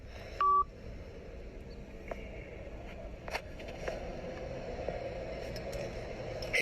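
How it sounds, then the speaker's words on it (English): A single telephone keypad tone sounds near the start, followed by scattered faint clicks over a steady low background hum, with no voices. "He just hung up the phone."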